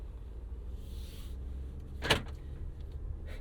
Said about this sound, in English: Love the sound of those automatic door locks locking themselves.